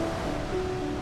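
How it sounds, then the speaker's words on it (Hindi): Sea waves washing onto Ashwem Beach in North Goa on a monsoon morning with light rain and cool wind, a soft continuous surf wash with faint steady tones over it, no voices. "सुबह की हल्की बारिश और ठंडी हवा और समुंदर की लहरों की ये आवाज़"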